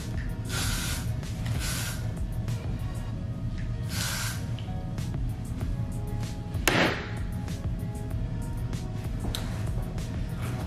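Aerosol spray hissing in short bursts while styling hair, several quick sprays close by over a faint background hum.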